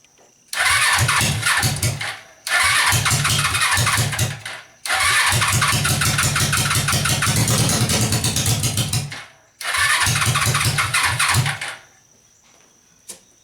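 A Suzuki motorcycle engine cranks and catches repeatedly, running loud and rough in several bursts, idling briefly between short gaps before shutting off.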